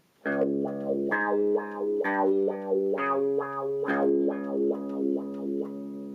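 Clean electric guitar plays a slow doom riff, with sustained bass-register notes and bending, sliding phrases that repeat steadily throughout, loud and close with no talking.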